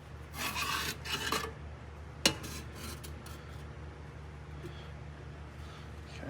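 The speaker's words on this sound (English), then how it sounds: "we're just going to cut open this oil filter and inspect it" A filter-cutting tool rasps through the steel canister of an oil filter from a Detroit Diesel 8V71 with alternator gear drive failure, giving two bursts of scraping then a sharp metallic snap, followed by quieter handling noises over steady shop hum.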